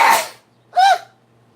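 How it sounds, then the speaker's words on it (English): A woman sneezes twice up close, a breathy burst followed after a short pause by a sharper, voiced second sneeze, in a quiet room. "Why I gotta sneeze?"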